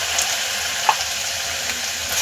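A masala mixture of grated coconut, turmeric, coriander leaves and a ground paste sizzles steadily in a pan for a spicy Maharashtrian amti, a continuous close frying hiss with a faint stir clink.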